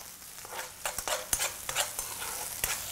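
Onion sizzles and crackles in a hot frying pan with a garlic, salt and ginger mix, steady frying hiss broken by sharp stirring scrapes and clicks, close and alone.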